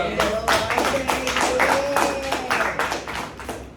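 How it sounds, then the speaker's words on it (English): A room of middle school students clapping at a school workshop, a burst of loud, uneven claps that holds steady and fades slightly at the end, with a voice speaking over it. "Clap it up for the Monday."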